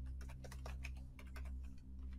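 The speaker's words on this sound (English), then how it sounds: "He's typing." Computer keyboard typing during an Among Us game session, a quick cluster of soft, faint keystrokes tapping in an irregular burst over a low steady hum, no voices.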